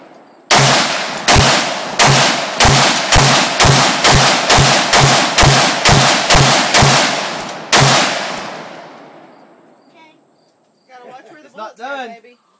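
About fourteen loud, booming gunshots from a .500 caliber gun fired outdoors in a quick, fairly even rhythm, each with a short ring-out, followed by a long decaying echo and then brief voices.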